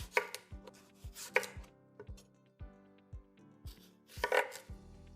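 A knife slicing vegetables for hobo casserole on a cutting board, a steady series of crisp, close chops with short pauses, heard alone in a quiet kitchen.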